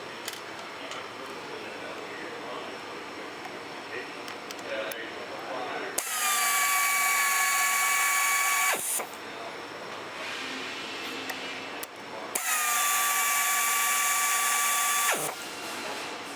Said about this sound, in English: And now we're going to install our bolts.